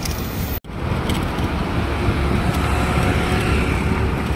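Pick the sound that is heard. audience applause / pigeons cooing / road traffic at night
road traffic at night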